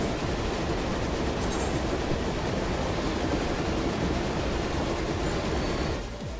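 Train ambience in the Final Fantasy XIV game: a steady, dense rumble of a moving rail car with continuous rolling noise, fairly loud and unbroken for most of the stretch before cutting off near the end.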